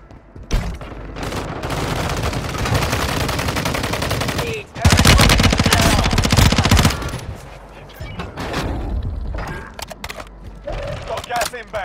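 Heavy automatic gunfire in the mobile shooter Call of Duty Warzone Mobile, played on the Rebirth Island map, with loud sustained bursts and dense rattling volleys. The firing is broken by one short pause and then tapers into scattered shots.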